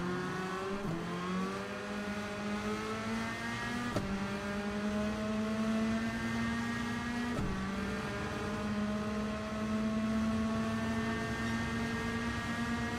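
A race car engine in a racing video game holds a steady high revving drone that climbs in pitch through the gears, with brief dips where throttle eases under braking, loud and continuous with no talk.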